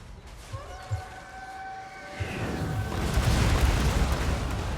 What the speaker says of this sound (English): they've got like secondary explosions on them